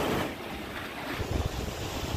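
Sea water surges up under pressure at high tide along the rocky Guhagar shore, a continuous rushing wash mixed with wind buffeting close to the microphone.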